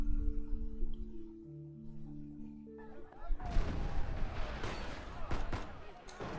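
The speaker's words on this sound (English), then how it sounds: "Gunfire and the sound of tables and chairs getting knocked over intermingle with N109 zone slang I don't understand." Gunfire during a night raid in the game Love & Deepspace, sharp bursts and booms with crashing clutter, arriving after a quiet stretch of soft musical tones.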